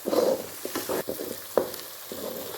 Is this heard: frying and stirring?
yes